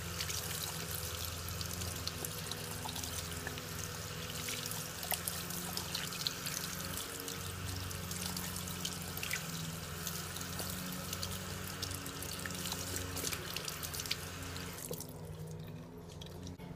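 Tap water pours steadily into a sink as foundation is rinsed from a makeup brush, a continuous close splashing stream with faint drips, fading out near the end, with no speech.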